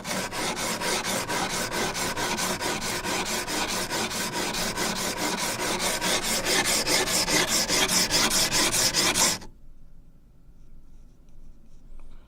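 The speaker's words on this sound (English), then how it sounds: "And then I'll start the actual sharpening process. So this is a coarse, medium," A blade is worked back and forth on a coarse sharpening stone lubricated with mineral oil, giving steady, rhythmic rasping strokes that are loud and close, then stopping abruptly near the end.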